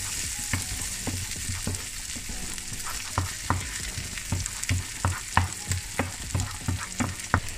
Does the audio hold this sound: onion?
yes